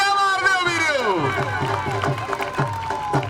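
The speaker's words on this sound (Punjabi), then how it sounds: "ਤਾੜੀਆਂ ਮਾਰ ਦਿਓ ਵੀਰੋ।" A crowd at a Kabaddi tournament claps in loose, rhythmic bursts beneath a loud commentator's voice, with spectators cheering faintly in the background.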